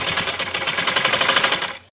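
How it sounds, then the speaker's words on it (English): A sewing machine stitches bias tape onto a garment neckline, a fast steady mechanical whirr with rapid rhythmic pulsing that runs loud and close for nearly two seconds before stopping abruptly. "just insert this neckline over here at the center of bias tape and sew it"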